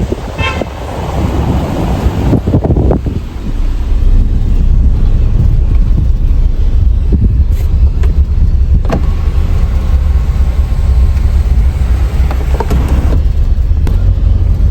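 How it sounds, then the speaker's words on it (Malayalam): A Mahindra Thar Roxx 5-door SUV on the road, its engine a loud continuous roar with road and traffic noise, a short horn toot right at the start and a few sharp knocks along the way. "താറോക്സ് വരുന്നു."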